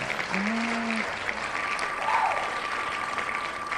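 A canned crowd cheering and applause effect plays during an online charity gaming stream: a steady wash of clapping and cheers of moderate loudness with a brief voice-like tone near the start.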